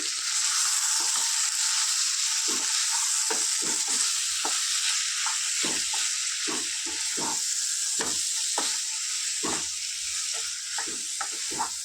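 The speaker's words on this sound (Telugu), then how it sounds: "ఒక వన్ స్పూను మసాలా వేసుకుంటాను ఫ్రెండ్స్ దీన్ని ఒక వన్ మినిట్ ఫ్రై చేసుకుందాం" Mutton liver fries with masala in a hot pan, giving a strong, constant sizzling hiss. Frequent sharp scrapes and knocks of stirring run through it, close and loud, with no talking.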